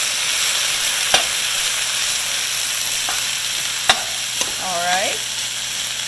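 Frozen vegetables hit the hot centre of a wok for fried rice, producing a loud, steady sizzle with a few sharp clanks of a utensil against the metal. A brief spoken word cuts in near the end.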